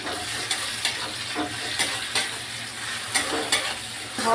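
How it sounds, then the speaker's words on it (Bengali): Garlic is stirred into fried onions in a hot pan: a steady sizzle runs throughout, broken by about a dozen sharp scraping strokes of the spoon at an uneven rhythm. "পেঁয়াজটা ভাজা হয়ে গিয়েছে এরপর আমি রসুন দিয়ে দেব রসুনটা হালকা নেড়ে নেব"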